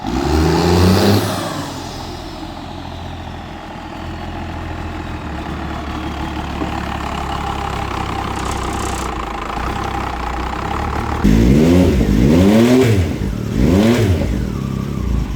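A car engine with a failed rod bearing idles and revs roughly, then settles into a steady running tone before a few sharp surging revs near the end, loud and close.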